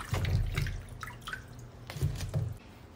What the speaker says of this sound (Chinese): 先把柠檬清洗干净